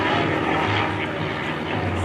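A restored Piper J3 Cub flying at an airshow, its small propeller engine producing a steady, moderately loud drone with wind noise.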